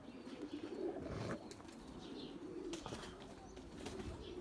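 Pigeons flapping and cooing above a house rooftop sound soft and distant, with occasional wingbeat bursts over a low ambient background.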